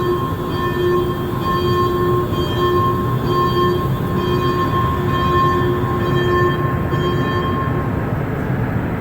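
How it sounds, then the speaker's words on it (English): Steady high-pitched electrical whine with stable tonal harmonics from underneath a Montreal Metro Green Line train during an afternoon rush-hour ride, continuous over constant rumbling running noise, no talk. "Hear that high frequency buzzing coming from probably the bottom of the train."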